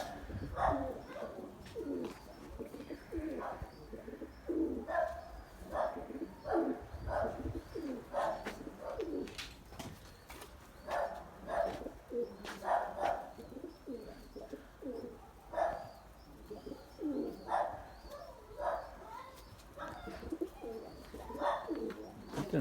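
Pigeons coo repeatedly in a loft, soft throaty calls rising and falling in an irregular rhythm at close range, with occasional chirps and faint rustling between them.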